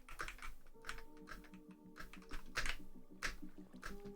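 Keys clack in irregular bursts on a non-gasket-mounted computer keyboard, punctuated by thudding spacebar hits, close-miked and fairly soft, with no voice.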